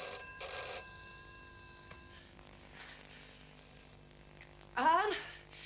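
A telephone rings in a quiet room, a bright electronic trill in short repeated bursts, fairly faint, followed by a brief voice.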